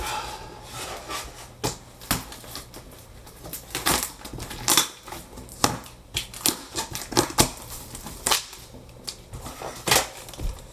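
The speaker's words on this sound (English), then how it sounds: "Cutting the tape." Packing tape being cut open on a board game box: a series of sharp, close clicks, scrapes and snapping taps spread irregularly over several seconds, with no talking.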